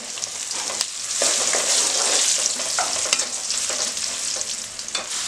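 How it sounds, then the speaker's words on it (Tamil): Mango pieces for a spicy pickle go into a pan of hot oil with urad dal and curry leaves. A loud, close sizzle follows with stirring scrapes and no talk. "அடுத்து மாங்காய போடுறேன்"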